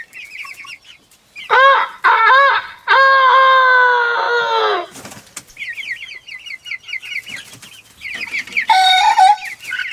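A young rooster crows in several strained, drawn-out bursts, loud and close, with softer clucks and a flutter of wings between the calls.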